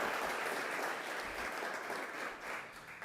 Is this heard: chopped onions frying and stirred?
no